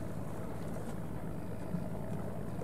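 Steady low engine rumble of fishing boats pulling out of a harbour near Phu Quoc, moderately loud and even, with no clear rise and no speech.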